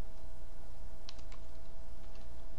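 A short burst of computer keyboard typing during a Camtasia screen recording gives a few quick, fairly faint key clicks over a steady electrical hum, with no speech.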